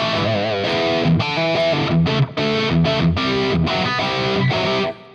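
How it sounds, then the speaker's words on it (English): A heavily distorted electric guitar, played through a Fractal unit's Compulsion distortion, plays loud sustained chords and riffs, thick and saturated, with brief gaps between phrases and no voices. "If I want to have a distorted sound, I have to use, for example, the Compulsion distortion is perfect."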